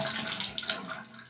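Hot water runs steadily from a newly replaced Crane Dialeze shower valve, a close, constant hiss and splash lasting just over a second without any talking.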